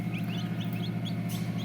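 Turkey chicks at a poultry farm give soft, high repeated peeps and chirps over a constant low hum of background noise.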